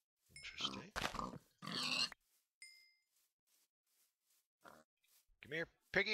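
Pigs grunt in a Minecraft-like video game, several short grunts and oinks coming in bursts between stretches of near silence, with a voice talking at points.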